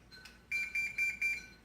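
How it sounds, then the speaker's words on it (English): A kitchen timer goes off during breakfast meal prep, sounding four quick bright beeps in a steady pulse, faint and close in a quiet room. "That's the alarm."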